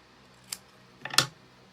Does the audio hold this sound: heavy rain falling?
no